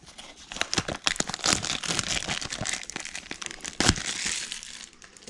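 Plastic wrapping on a Donruss football card retail box being cut and torn open, a busy run of close crinkling, crunching and snapping plastic with sharp rips, steady for several seconds.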